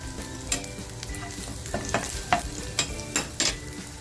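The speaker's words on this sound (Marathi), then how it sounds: "जी मागल्या फ्राय करून तेल राहिलं होतं ना त्याच्यातच लसूण टाकते" Garlic sizzles in oil left over from frying squid, a close, steady hiss punctuated by regular light scraping stirs of a spatula in the pan.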